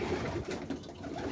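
Rolling pigeons coo softly in a loft during breeding season, low murmuring throaty calls from a few birds close by, with no voices.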